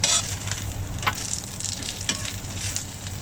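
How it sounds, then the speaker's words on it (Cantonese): Fried fish belly pieces stir-fried in a hot wok with ginger slices and scallion, a steady close sizzle with a clattering spatula scraping the wok at a few moments, alone throughout. "跟住加入炸好嘅魚腩，"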